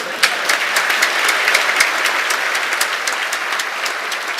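An audience at a university graduation ceremony applauds steadily, a dense continuous clapping from a large hall with a few louder individual claps, with no voices standing out.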